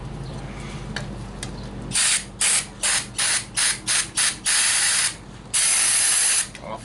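Carb cleaner sprayed from an aerosol can onto moped parts, in a series of short hissing bursts followed by two longer sprays, loud and close.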